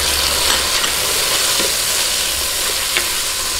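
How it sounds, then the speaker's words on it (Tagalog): Onion and tomato sauté in a hot pan for ginisang monggo with pata, a loud continuous sizzle close up, broken by soft scraping taps from stirring. "Gisa-gisahin lang po natin."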